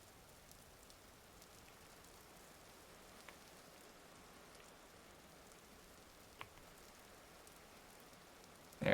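Steady soft rain hisses in a video game, a faint even patter with a couple of small clicks, ending in a sudden louder noise.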